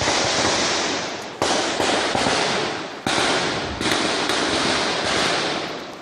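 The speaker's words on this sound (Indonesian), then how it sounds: "Tembakan lagi, Allah Akbar." Gunshots in an armed shootout in Poso, Indonesia, heard as several sharp loud reports at irregular intervals, each trailing into a long decaying roar of echo.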